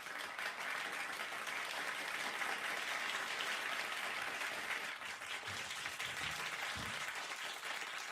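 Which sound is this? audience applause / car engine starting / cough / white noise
audience applause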